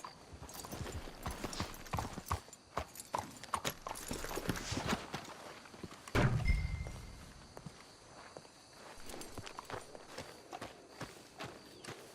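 Horse hooves clip-clop on the ground in Red Dead Redemption 2, an irregular run of sharp hoofbeats with a louder thump and rustle midway, then slower steps continuing quietly.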